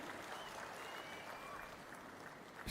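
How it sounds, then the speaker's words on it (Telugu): Dense, steady applause from a large crowd at an outdoor public meeting in Nellore, continuous and fairly distant throughout without any break. "గట్టిగా చప్పట్లు కొట్టి అభినందించండి"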